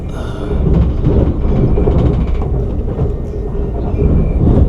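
EuroCity EC 14, a 2016-built train running from Milan to Zurich through the Italian and Swiss Alps, gives a steady, loud interior rumble with a low rolling roar and faint rattles that stay constant throughout.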